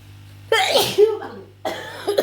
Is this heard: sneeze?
yes